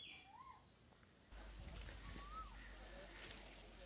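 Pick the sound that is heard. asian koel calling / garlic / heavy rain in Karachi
asian koel calling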